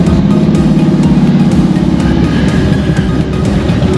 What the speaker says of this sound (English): See, a bunch of bikes just took off.